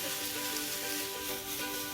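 Tomato egg fried rice sizzles and fries steadily in a hot pan as it is stirred together, a continuous close crackle with no talking.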